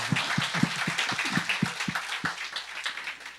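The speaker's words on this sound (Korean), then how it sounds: "우리 박수 한번 해주시기 바랍니다." A church congregation applauding indoors during a Sunday service, a dense wash of clapping with a few sharp, regular claps standing out near the front.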